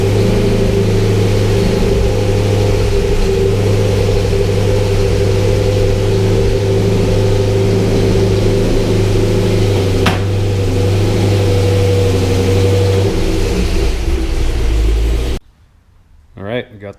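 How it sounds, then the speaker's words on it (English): A Corvette C6 Z06 drives up onto ramps on a slick garage floor, its engine running as a steady, loud, low rumble for about fifteen seconds before it cuts off abruptly into near silence. "So next up, we'll get the car up on the ramps."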